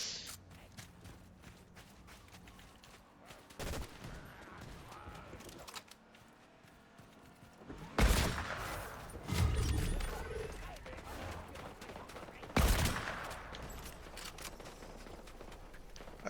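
Gunfire in the Fortnite video game, a few sharp broadband bursts standing out at intervals over quieter game ambience and movement sounds.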